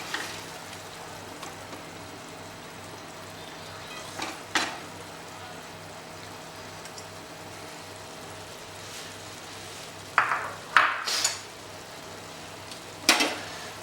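Chicken pieces for a biryani sizzle steadily in a pan, with a few sharp scrapes and clinks as they are lifted out near the end; no one talks.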